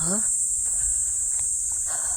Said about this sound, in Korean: 매미 소리